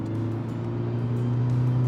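Toyota Hilux GR-S diesel pickup with a 200 horsepower engine pulling steadily under acceleration, a loud continuous drone heard from inside the cabin, alone with no talk.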